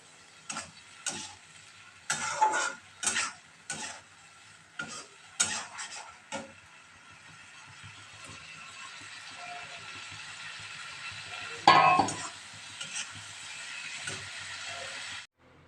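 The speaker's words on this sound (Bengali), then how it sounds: "সাঁতলে নিয়েছি মশলাটা একটু কষিয়ে ঝিঙে আর পটলটা এই যে ভাজা রয়েছে এটা দিয়ে দেবো" Ridge gourd and pointed gourd fry with spices in a pan: a series of sharp clinks and scrapes from a utensil, then a soft, steady sizzle that slowly grows louder, with one brief louder burst of frying near the end.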